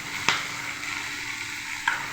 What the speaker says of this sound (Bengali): সব সবজি দিয়ে দিলাম। হালকা ভাজা হয়ে গেছে।